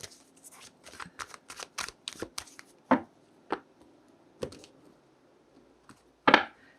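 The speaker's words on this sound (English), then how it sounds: "I want to shuffle for this next bit." Tarot cards being shuffled by hand, a quick flurry of close papery riffles and snaps that thins into a few separate card slaps, ending with one louder shuffle.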